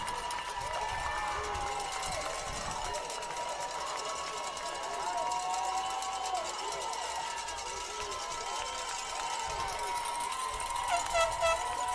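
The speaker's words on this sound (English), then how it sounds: "Crowd absolutely ecstatic." A crowd at a 9U youth football championship at Roy Salmon Stadium roars in a steady, broad wash of cheering that lasts throughout. An announcer's voice runs over it.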